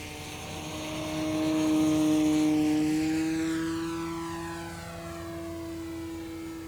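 Durafly Carbon Arcus 1000mm F3A aerobatic RC biplane passing overhead with a steady electric motor and propeller whine that swells, then drops in pitch as it moves away; no talking.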